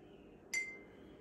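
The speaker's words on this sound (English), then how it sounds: "Let's really stir this up well, get it well mixed up." A single bright clink of a utensil against a glass while a liquid mixture is stirred, one short ringing tap with a brief decay over quiet background.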